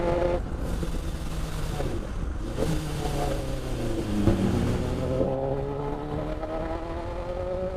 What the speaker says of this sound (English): It's a supercharged Suzuki Hayabusa engine. It's absolutely bloody mental.